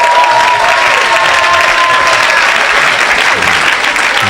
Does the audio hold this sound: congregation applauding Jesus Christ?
yes